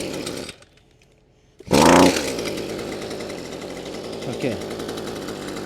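Small farm engine started without any fluid, cranking with a sharp burst and then settling into a loud, steady, rattling idle close by, with a brief spoken word near the start.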